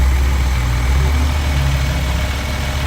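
A 2023 Jeep Gladiator Apocalypse Hellfire engine idles steadily in the open engine bay, a close, low, even rumble with no talk.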